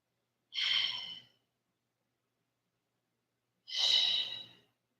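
Two slow, deep breaths during a yoga flow, each a soft, airy exhale lasting under a second, separated by about three seconds of silence, close and clear with no talking.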